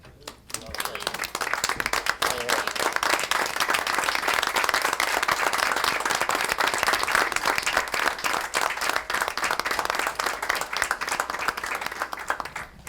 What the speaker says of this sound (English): give them a round of applause for their efforts